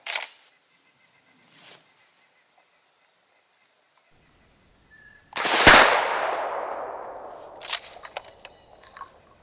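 A single loud, close shotgun blast from a Stoeger M3000 loaded with 00 buckshot and fitted with a choke, fired outdoors at a 7-yard target, with a long ringing decay and some light handling noises before it.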